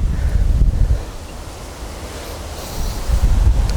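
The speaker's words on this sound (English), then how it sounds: "Okay, it's really strong, the wind here." Strong wind buffets a microphone on a golf course, roaring in loud low gusts at the start and end with a calmer stretch between, and no voices.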